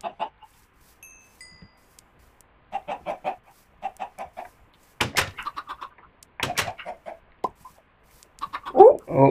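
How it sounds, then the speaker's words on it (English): Chickens in a video game cluck in short, repeated bursts spread across the stretch, close and fairly loud between moments of near silence. "let's breed some chickens"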